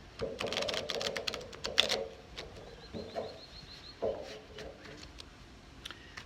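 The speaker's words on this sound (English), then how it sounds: "shuffle these cards again" Playing cards being shuffled, quick crisp riffling clicks in a few short bursts, close by and fairly quiet.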